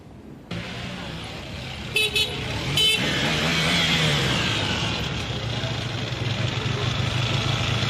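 A car engine starts with a sharp burst, then idles and runs steadily at a low rumble, with a couple of brief high chirps early on.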